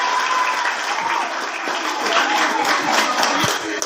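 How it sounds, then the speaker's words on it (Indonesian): Applause from students at a school worship service, a steady wash of clapping that holds loud and continuous throughout, with faint voices mixed in underneath. "tepuk tangan dulu untuk"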